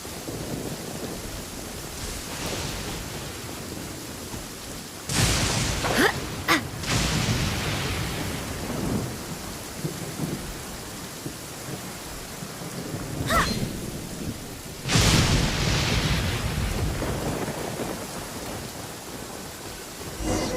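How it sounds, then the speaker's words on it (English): Steady rain in the Genshin Impact video game world, with two loud rolling thunderclaps that crack sharply and then rumble away over the constant hiss of rainfall. "The rain won't slow me down."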